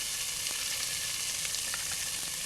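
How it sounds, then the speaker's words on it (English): Chopped onion sautés on medium-high heat in a pan, giving a steady, dense sizzle with a few faint crackles, close and continuous, with no talk. "Which you saute the onion for on medium-high for about 3-4 minutes"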